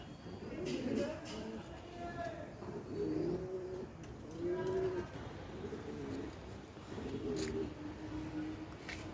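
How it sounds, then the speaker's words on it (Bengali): Several pigeons on a house rooftop coo in slow, rolling phrases that repeat every couple of seconds, close and moderately loud against a quiet outdoor background. "দেখো কত সুন্দর সুন্দর কবুতর।"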